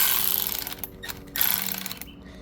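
A T25 Torx bit backs out a bumper screw on a 2006 Nissan Maxima, giving bursts of close whirring ratchet-like buzz broken by short pauses; no voices.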